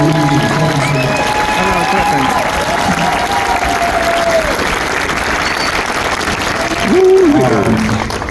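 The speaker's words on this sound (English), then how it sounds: "let's give a big round of applause to all these leaders" A crowd applauding steadily throughout while a voice carries on over it, the clapping swelling slightly near the end.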